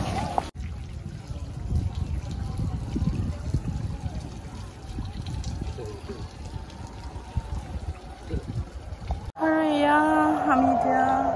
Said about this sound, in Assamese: ধুনীয়া পানী পৰি আছে।